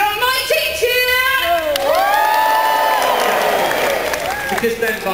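A live theatre audience at the Gadget Show Live cheers and whoops loudly, a dense crowd roar with rising and falling shouts and scattered clapping sustained throughout.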